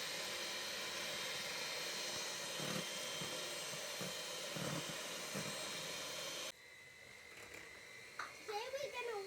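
A Dualit electric hand mixer runs with a steady, bright high-pitched motor whine for about six seconds, then cuts off, leaving a quieter room where a voice speaks briefly.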